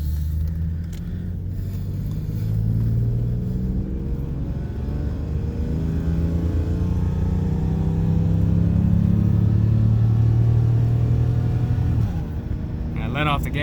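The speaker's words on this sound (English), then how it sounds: "I'm giving her a bunch of gas and she's just struggling" A BMW 750iL E32 engine strains under heavy throttle with a loud, sustained droning roar whose pitch creeps slowly upward, then eases off and drops near the end.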